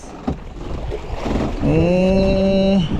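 Large sea waves at a fishing spot off Calatagan, Batangas, during a storm, with steady wind and water wash around a boat and a droning tone rising in the second half.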